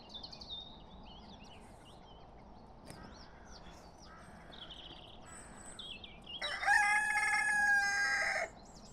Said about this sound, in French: Oui, le coq!